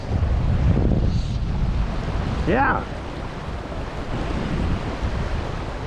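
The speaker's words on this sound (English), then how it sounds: "A little breezy out here." Steady breezy wind buffets the microphone beside a river during fly fishing for brown trout on Bitch Creek in Idaho, a constant broadband rush throughout, with a brief whistle-like sweep and a short spoken word.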